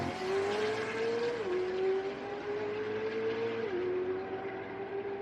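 A race car engine at Sonoma Raceway holds a loud, steady, high-pitched drone, dipping briefly twice as the driver shifts or lifts, then climbing again at close range.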